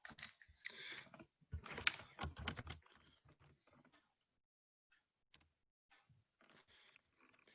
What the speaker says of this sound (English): Are you typing it in, Sabrina?